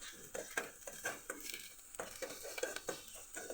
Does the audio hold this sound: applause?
no